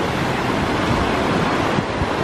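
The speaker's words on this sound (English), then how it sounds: "The waves are not bad as well." Ocean surf breaking on a beach at Trincomalee, Sri Lanka, a loud, steady roar of waves mixed with heavy wind buffeting the microphone, with no voices.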